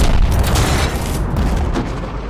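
The main gun of an Abrams tank in the War Tycoon video game fires, giving a loud, heavy boom with a dense rumbling tail that fades slowly over two seconds.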